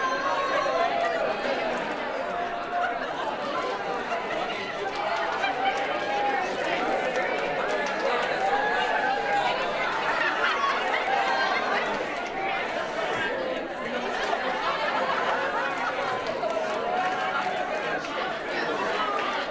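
People cheering for their winners during a group elimination game: steady, busy crowd noise of overlapping voices, shouts and laughter with shuffling footsteps, sustained at an even loudness throughout.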